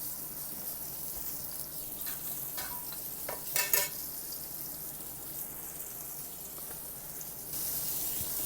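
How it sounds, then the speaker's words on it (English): Chicken sears in a hot frying pan with a steady, constant crackling hiss, punctuated by a few brief clattering scrapes partway through. "And let's watch these guys sizzle a little bit."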